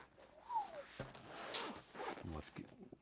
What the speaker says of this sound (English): And then you got your dual zippers.